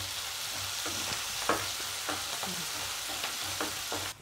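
Slit green chillies, mint, coriander and onions fry in a pan, giving a steady low sizzle with a handful of light spatula scrapes and taps, close and fairly quiet, no voices.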